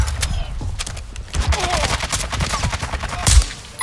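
Repeated marksman rifle shots in Call of Duty, sharp cracks landing in an uneven rhythm among other battlefield gunfire, with a heavier blast near the end and faint voices in the mix.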